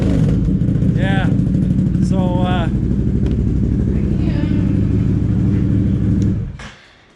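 A 2019 Can-Am Outlander 650 XMR ATV fitted with a Yoshimura slip-on exhaust rumbles loudly at idle and surges through a quick rev. The engine then cuts off, with people talking over it.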